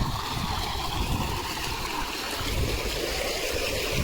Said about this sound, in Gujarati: તો આ પાણી જાય છે આમાં